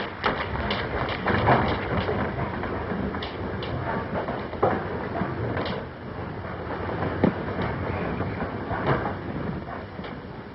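Steam-era passenger train rolling along rails in a 1935 thriller, a steady rumbling carriage noise with periodic clicks and thumps of wheels over rail joints, continuous and fairly close throughout.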